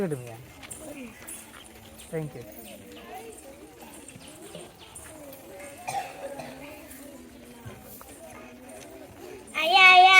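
A horse's hooves clip-clop lightly in a Tamil children's comedy drama, mixed with voices talking over them and a few faint bird sounds.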